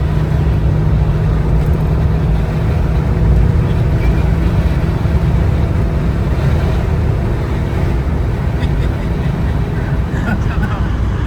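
An Opel Corsa GSI with a 1.6 engine and five-speed gearbox drives along, its engine and road noise a loud, constant drone heard from inside the car, with voices talking over it.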